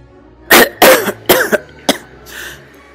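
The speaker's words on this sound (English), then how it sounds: "The cough is mere nothing." A man's dry cough in a damp nitre-crusted wine cavern, sounding as four sharp close bursts within about a second and a half, followed by a fainter throat clearing.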